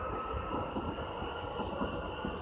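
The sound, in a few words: train passing through station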